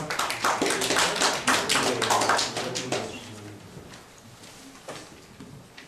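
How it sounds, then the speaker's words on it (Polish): An audience at a poetry festival applauds with brisk, dense clapping that fades out over a few seconds, leaving a few scattered claps. "Tomek, wielkie brawa dla Tomka."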